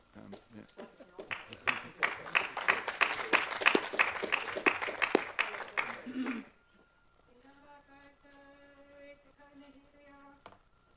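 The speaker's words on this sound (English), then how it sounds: "And you may clap if you want to." A council meeting room breaks into steady, fairly loud applause after a motion is carried. The clapping runs for about six seconds, then cuts off abruptly into a quiet, tonal hum.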